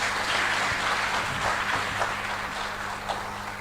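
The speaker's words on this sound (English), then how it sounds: "Another big round of applause for the Governor," An audience at a financial strategy launch event claps for the Governor, a full and continuous round of applause lasting several seconds with a low hum underneath.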